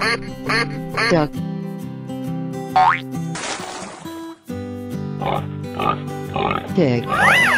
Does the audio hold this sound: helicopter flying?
no